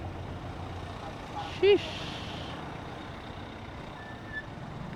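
Steady road traffic of trucks and cars rumbles near Paliparan, heard from a motorbike in a jam, with a constant low drone and a brief horn-like tone. Someone speaks once over the noise.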